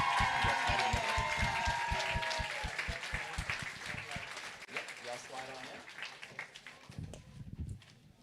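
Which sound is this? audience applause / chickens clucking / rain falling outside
audience applause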